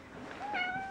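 A cat gives one short, rising meow, close by and clear against a quiet room.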